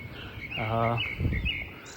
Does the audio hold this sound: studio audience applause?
no